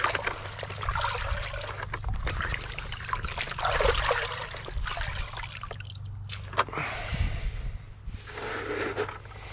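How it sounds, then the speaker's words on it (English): Fine pond filter foam being squeezed out in a bucket of pond water, giving a steady wet trickling and dribbling with sloshing splashes, close and fairly loud throughout. "in the same water I'll also squeeze out the"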